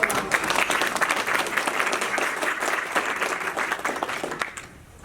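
An audience at a county government Women's History Month celebration applauds in a full, sustained burst of clapping that keeps an even level for several seconds, then fades quickly near the end.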